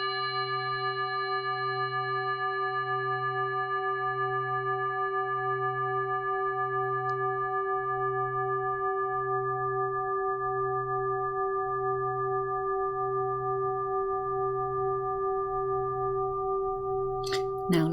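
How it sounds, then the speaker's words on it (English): A meditation bell rings with a steady sustained tone and pulsing low hum, slowly fading over a long stretch before a brief sharp sound at the very end; no talking. "Now listening as the bell slowly fades away"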